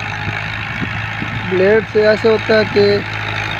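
Tractor engine idling steadily at a soil-loading site while a blade-equipped tractor moves earth into a trolley, a low continuous drone running under someone talking throughout.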